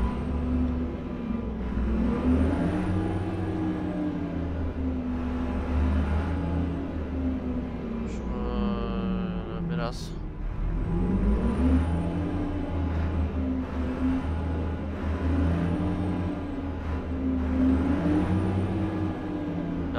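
Steady, deep diesel drone of a Renault Magnum truck engine in Euro Truck Simulator 2, rumbling continuously with slow pitch rises and falls as it revs, and a brief hiss of air brakes midway.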